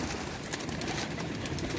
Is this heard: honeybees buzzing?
no